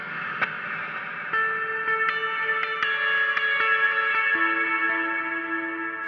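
A guitar played through a Line 6 POD Go with a delay effect picks out single notes and short phrases, each one ringing on in repeating echoes. The tone is clear and sustained, with no talking.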